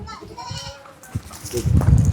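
A Beetal goat, a four-toothed breeding buck with good colouring, bleats a few short times at close range, with voices talking nearby.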